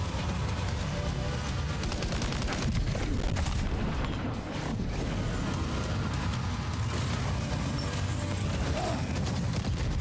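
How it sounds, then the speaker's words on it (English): Gunfire roars without letup in the video game Death Stranding 2, a dense, loud fusillade of shots and crashes that fills the whole stretch with barely a dip. "I'm going in guns blazing."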